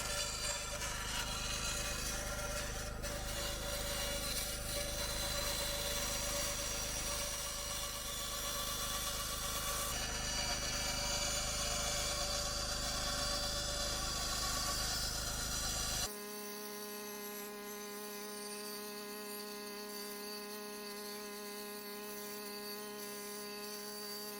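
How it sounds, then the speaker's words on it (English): A bandsaw cuts wood for a deer plaque with a steady, loud mechanical whine and a rasping blade that run without a break, then shift to a cleaner, thinner tone near the end. "I'm going to go ahead and try and do this over on my bandsaw"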